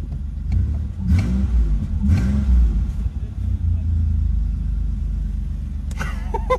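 A car engine rumbles loudly nearby and revs up in surges, a deep continuous growl with a few indistinct voices mixed in.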